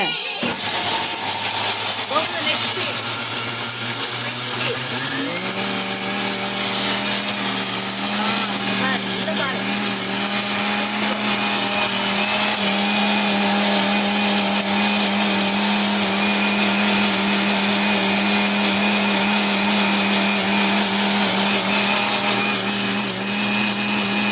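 An electric mixer grinder whirs steadily as it grinds pesarattu dosa batter, a loud continuous motor drone that drops slightly in pitch after a few seconds as the load settles, with faint voices in the background.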